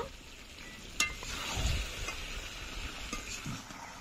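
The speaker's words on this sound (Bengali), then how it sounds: "মাংসটা কষে নেব" Country chicken meat being sautéed and stirred in a pan over a coal fire, with a steady soft sizzle and occasional scraping strokes of a spoon against the pan.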